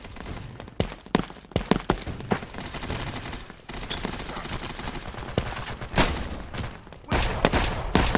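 Gunfire in the online multiplayer shooter Hazmob FPS: dense, loud bursts of rapid shots and thumps, nearly continuous with brief pauses, close and punchy.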